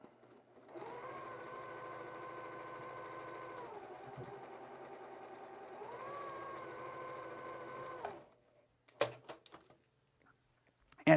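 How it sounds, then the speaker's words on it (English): A sewing machine stitches a rectangle to a square for a quilt block, humming close and steady for about seven seconds with a brief change in pitch midway, then stopping, followed by a few soft handling knocks. "Now we're going to sew this kind of rectangle to the square."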